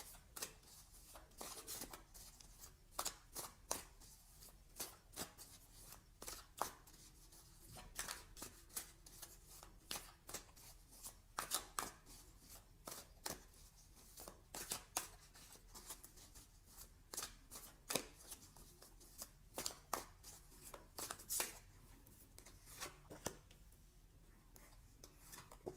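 Tarot cards shuffled and handled continuously for a long stretch, a steady run of crisp riffling snaps and soft sliding rubs, close and quiet, with no talking.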